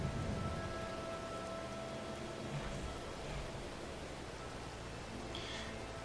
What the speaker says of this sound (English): I mean, it's still drizzling.